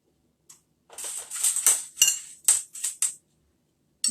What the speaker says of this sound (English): You mix that all in with those eggs